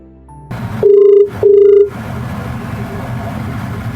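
Two electronic ring tones of a phone call over Bluetooth in quick succession play loudly inside a Maruti Wagon R ZXI car, followed by a steady low engine hum.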